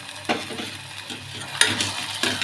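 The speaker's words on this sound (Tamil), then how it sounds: "எண்ணெய் தாராளமாக விட்டு கிளறிக்கலாம்." Kali, a thick millet-style dough, is stirred in plenty of oil, with a spoon scraping in a few uneven strokes over a low sizzle, close and fairly loud with no voices.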